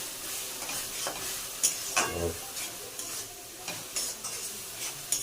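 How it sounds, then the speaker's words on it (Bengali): Spice paste sautéed in a pan, a continuous crackling sizzle broken by repeated scraping stirs of a spatula, close and moderately loud, nobody speaking. "মশলাটা কষা হোক"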